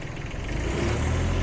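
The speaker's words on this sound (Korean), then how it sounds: "장비 엔진 소리도 어, 같이 한번 들어보도록 하겠습니다. 최저 RPM" A used mini excavator's diesel engine idles at its lowest RPM, a steady rumbling drone close by, continuous and unchanging for a short moment with no voices.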